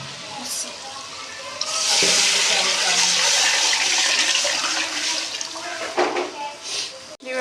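Buttermilk (lassi) is poured into fried spices in a pan for kadhi, a close, steady splashing rush of liquid lasting several seconds before tapering into a few stirs and clinks.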